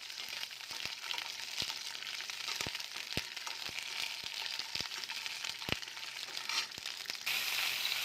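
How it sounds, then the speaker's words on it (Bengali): Slices of pointed gourd fry lightly in hot oil, a soft continuous sizzle with scattered sharp ticks and pops, fairly quiet and without voices. "হালকা করে ভেজে নেব।"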